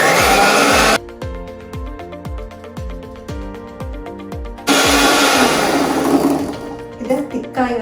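An electric hand mixer runs at low speed beating whipping cream for cake decoration, a steady motor whir with rhythmic beater pulses, loud and close, switching on partway through and running continuously.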